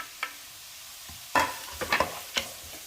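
Capsicum stir-fried in a pan with grated carrot for masala rice: a few sharp spatula clinks and scrapes stand out over a faint, low sizzle, with quiet gaps between strokes.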